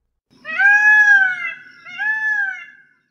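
Peacock giving its evening call at sunset on forested slopes, two loud, drawn-out wailing cries in quick succession, clear and alone.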